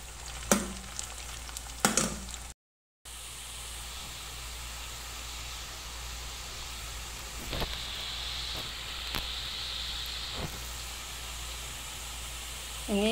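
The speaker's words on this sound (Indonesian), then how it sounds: "Tadi habis goreng telur, jadi ini minyaknya wih, blukutuk blukutuk." Hot oil bubbling and crackling steadily while basreng (fried meatball strips) fry over medium heat in oil used earlier for eggs, a continuous sizzle with a few sharper pops and stirring clatters near the start.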